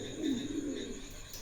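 A Mundi pigeon, one of a breeding pair for sale, gives a soft, low cooing call close by, rising for about a second and then trailing off, with no talk over it.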